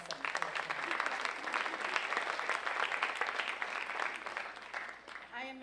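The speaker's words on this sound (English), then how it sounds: "Give yourselves a round of applause for being present here tonight." Audience at a first-year college convocation applauding, a dense steady round of clapping from a large room that fades at the end as a speaker starts talking.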